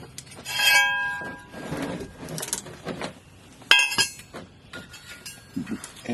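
Metal clinks and taps while a driveshaft loop is bolted up on a Chevy, a few sharp ringing strikes spread out among quieter shuffling handling noises.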